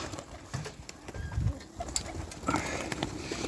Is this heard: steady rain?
no